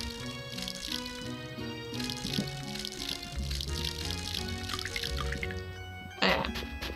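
Watering crops with a watering can in the video game Rune Factory 4: a steady stream of splashing, pouring game water runs beneath constant background music, with a brighter burst of sound near the end.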